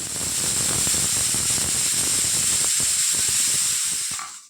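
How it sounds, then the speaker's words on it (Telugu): A pressure cooker whistle blowing a continuous, loud hiss of escaping steam while mint rice cooks, with crackly rattling underneath, running steadily before cutting off abruptly at the end. "ఒక మూడు విజిల్స్ రానిద్దాము"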